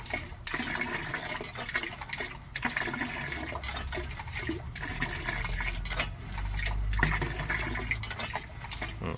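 Water pumped from a well by a hand pump flows and splashes continuously, with surging gushes, gurgles and short gaps, close by and without voices.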